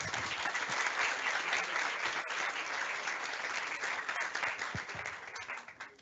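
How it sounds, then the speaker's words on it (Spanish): Audience at a panel discussion on gender equity in Chile applauds a guest, with dense, steady clapping that holds for several seconds before tapering off. "Le brindamos un aplauso, por favor."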